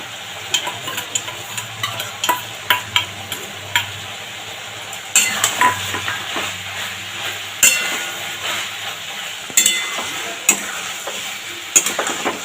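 Fried onions and green chillies tipped into sizzling okra curry, with repeated sharp spoon scrapes and clinks against the pan over a bright, steady frying sizzle, close and fairly loud, no voices.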